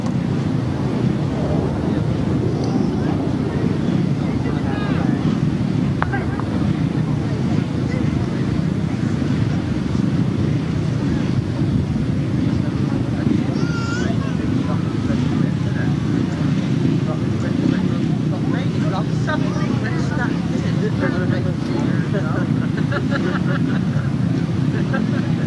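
Grasstrack racing motorcycles roar continuously as a 1994 race gets underway, a dense engine drone mixed with wind buffeting and a commentator talking over it.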